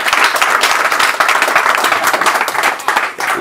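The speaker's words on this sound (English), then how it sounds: "Can we get one more round of applause?" A live crowd applauds loudly at the Madden NFL 20 Challenge Championship esports final, with dense, sharp clapping that stays strong and then eases slightly near the end.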